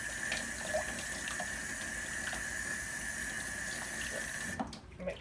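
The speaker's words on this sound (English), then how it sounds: "Put them in a sink of cool," Cool water runs steadily into a sink for rinsing squirrel skins during taxidermy, a constant close splashing rush that cuts off just before the end.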